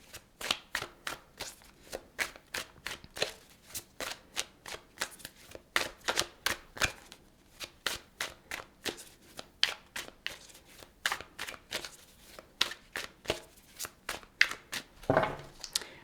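Tarot cards being shuffled by hand in steady rhythmic riffles, each crisp flutter close and distinct, repeating for around sixteen seconds with no talking.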